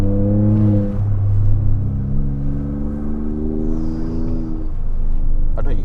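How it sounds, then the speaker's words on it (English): A Ford EcoBoost pickup truck revving as its turbo spools up, a close engine drone with rising tonal whine layered over a low rumble, steady and loud, with a faint voice underneath. "That turbo starts spooling up."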